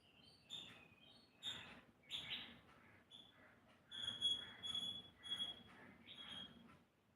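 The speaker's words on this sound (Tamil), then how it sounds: "குயில் சத்தம்." An Asian koel calls around a home: a series of thin, clear whistled notes repeated in short bursts, fairly faint, with quiet gaps between the phrases.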